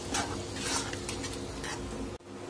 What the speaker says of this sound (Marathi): पुदिनाची पानं घालून घेणार आहोत आणि छान याला मिक्स करून घ्यायचंय आपल्याला